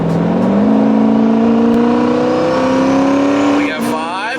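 Turbocharged GT car accelerating hard on a cold road, engine tone climbing steadily and loud up close through the gears, with a brief shift dip near the end; no talk over it.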